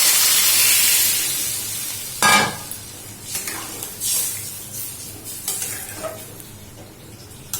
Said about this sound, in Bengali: এবার এর মধ্যে আমি জল দেব।